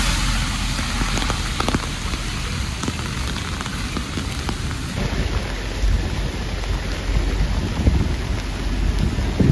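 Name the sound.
heavy rain on a New York street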